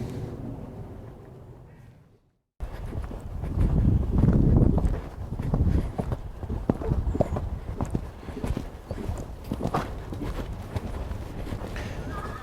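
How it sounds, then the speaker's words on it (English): A horse approaches and pops over a fence during a jumping session, with rhythmic hoofbeats on the ground, a burst of heavier thuds and movement near the takeoff, then continuing strides against outdoor noise. "ask Lottie to pop the horse over the fence"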